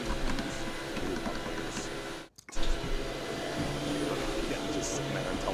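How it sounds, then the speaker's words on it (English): A vacuum cleaner drones steadily in the background, a constant whirring hum that cuts out for a split second and then carries on. "you can hear a vacuum in the background"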